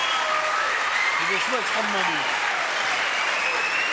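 Audience applause in a French TV studio, steady clapping running under a voice speaking over it.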